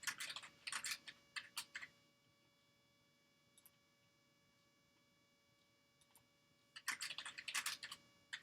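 Bursts of typing on a computer keyboard during a chemistry stoichiometry lesson: quick clusters of clicky keystrokes, a long quiet pause with only a couple of stray taps, then another rapid burst, all close and fairly quiet over a low hum.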